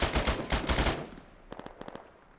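Rifle fire in the military game Arma 3 during a town assault: a loud close burst of rapid shots, then a few sharper, fainter single cracks spaced apart as the exchange dies down.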